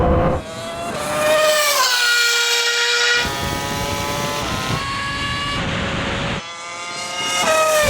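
A Bugatti Chiron drag-racing a Red Bull Formula 1 car in a racing game: loud, continuous high-revving engine tones climbing through repeated gear shifts, with brief drops between them and no talk.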